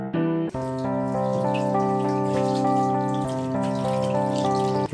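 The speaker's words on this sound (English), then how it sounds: "we're going to wash our hands before we cook" Water runs steadily from a kitchen tap as hands are washed before cooking, a continuous, fairly loud flow with ringing tonal overtones throughout and no talking.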